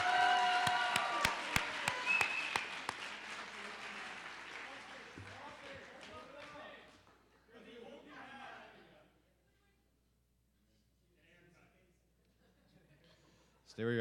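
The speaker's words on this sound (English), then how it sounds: "can we get a round of applause for these four guys?" Audience applause at the 2019 Nemmy Awards ceremony, a loud crowd clapping that fills the opening seconds and then fades, followed by talking and quieter room murmur.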